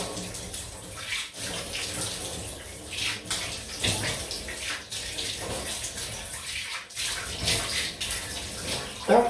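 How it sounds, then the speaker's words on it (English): Cold tap water running into a sink while a shaving brush or razor is rinsed: continuous splashing flow with brief dips where the stream is interrupted, close and steady, no talk. "cold water rinse, be back in a jiffy"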